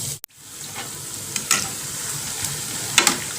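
Sweet snack dough fries in hot oil with a steady close sizzle and crackle, broken by a sharp clatter near the start and a few soft scrapes as the pieces are turned.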